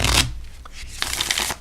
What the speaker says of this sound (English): Shuffles just like a regular playing card deck. Very easy to shuffle.